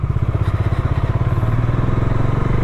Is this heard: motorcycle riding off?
yes